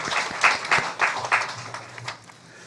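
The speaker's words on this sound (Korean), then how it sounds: "오늘 수고하신 성가대 다시 한번 격려 박수 한번 하겠습니다" During a Sunday church service, the congregation gives the choir a short, fairly faint burst of applause. The claps come in loose rhythmic pulses that quickly fade.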